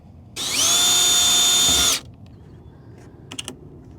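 A power drill with a 7/64 bit spins up into a loud, steady high whine for about a second and a half while drilling a hole in a Ford Raptor front bumper. It stops abruptly, and a few faint clicks follow.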